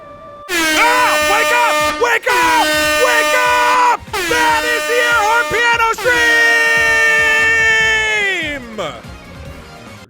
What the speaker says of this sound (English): That is the air horn piano!